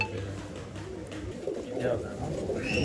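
A Lalpuri pigeon, a male, coos softly in short repeated phrases under a man's speech, close by in a loft with other faint bird sounds around.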